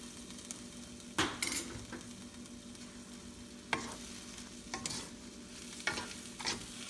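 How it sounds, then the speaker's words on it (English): A spoon stirs brown sugar into sweet and sour sauce in a pan, giving a few sharp scrapes and clinks spaced over a quiet, steady sizzle, close and without talk. "Let's give it a stir."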